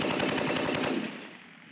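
An M240B machine gun fires a rapid, loud burst of automatic rounds on a U.S. Marines live-fire range outdoors, the rattling shots stopping abruptly and leaving a short fading echo.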